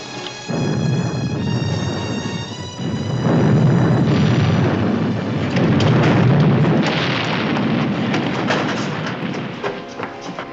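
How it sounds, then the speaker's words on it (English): A deep, rumbling underwater explosion of a booby-trapped torpedo erupts, followed by prolonged roaring turbulence and thuds that swell and churn for several seconds. "caught in the explosion of a booby-trapped torpedo"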